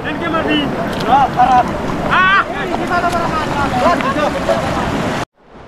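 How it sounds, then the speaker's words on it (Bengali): The strong current of the Bogamati river rushes past hills, where rafting boats launch; a steady, loud wash of water fills the whole stretch while voices talk over it, ending in a sudden cut. "কলকল শব্দে বয়ে চলেছে, প্রচণ্ড স্রোত।"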